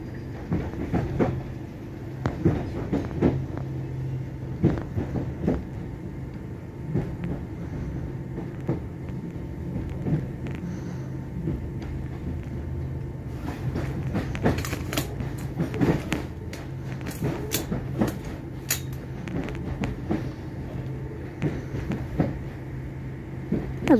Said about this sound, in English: There's a fast train going through.